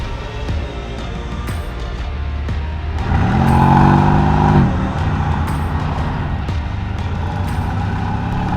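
A 2020 Mercedes-AMG GLC63-S pulls away, its engine swelling into a loud rising rev for about two seconds before settling back to a steady drone, no talking.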